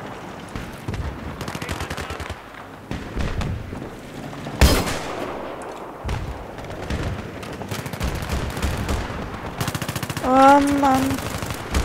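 Battlefield 3 campaign combat with bursts of gunfire and a loud blast, layered under shouted voices and game music that stay present throughout.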